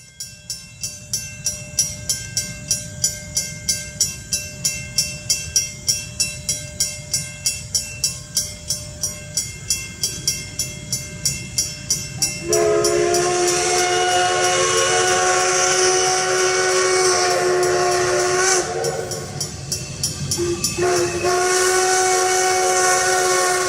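Everett Railroad steam locomotive No. 11 chuffs rhythmically as it pulls a train north in Pennsylvania, then a loud, sustained steam whistle blows for several seconds, followed by another long blast.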